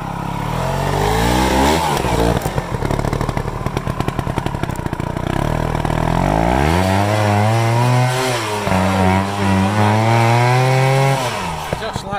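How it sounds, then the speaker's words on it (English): A trials sidecar motorcycle engine revs hard and close, climbing and falling in pitch through repeated throttle blips over a steady loud drone. "likes to rev his bike"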